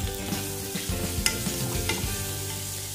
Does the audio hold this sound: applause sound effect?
no